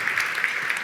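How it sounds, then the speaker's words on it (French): An audience at an awards gala claps in a dense, steady burst of applause, heard from within the room for under a second. "on peut l'applaudir."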